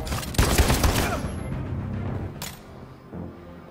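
Gunfire from Detroit: Become Human: a dense burst of shots in the first second, then a single sharp report near the middle and a softer thump toward the end.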